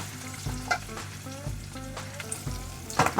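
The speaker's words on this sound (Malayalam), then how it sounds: "സവാള കുറച്ചൊന്ന് വഴണ്ട് വരണം." Onions sautéing in a pan for chicken curry, a steady close sizzle of frying with intermittent scraping stirs roughly every second, no voices.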